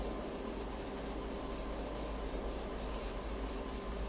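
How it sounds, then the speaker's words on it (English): Continuous drilling through soil in the indie horror digging game MOLE, a steady gritty grinding rasp with a faint regular pulse, heard alone at an even level. "When I'm just drilling soil."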